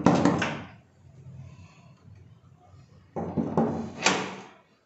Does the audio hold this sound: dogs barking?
no